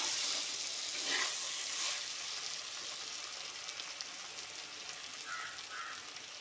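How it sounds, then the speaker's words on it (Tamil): Eggplant sautés in a pan with chili powder for a valai dried-fish kuzhambu, giving a steady, close sizzling hiss with faint stirring that never lets up and carries no talk. "கத்திரிக்காயெல்லாம் வதங்கிருக்குங்க மிளகாத்தூள் சேர்த்துருக்குறேன்"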